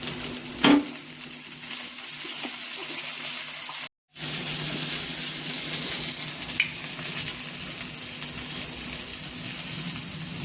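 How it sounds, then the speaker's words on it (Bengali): Fried chicken being stirred together with sauces in a pan, with capsicum also frying, gives a steady close sizzle under light scraping and clinks, broken by a brief gap partway through. "এবার একে একে সব সসগুলো আমরা মিশিয়ে দেবো"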